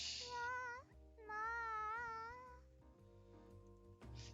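Okayu, drunk on catnip, lets out long wavering cat-like cries, a human voice imitating a cat, in two drawn-out wails and then a shorter sound, close and clear.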